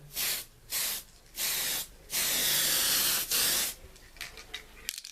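Aerosol spray paint hisses onto a 1/350 scale USS Enterprise model in several close bursts of varying length, the longest over a second, separated by short pauses and ending in faint handling clicks.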